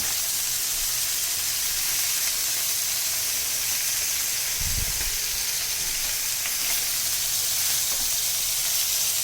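Continuous bright sizzling of steaks frying in a hot pan, steady and close, with a brief low clunk near the middle.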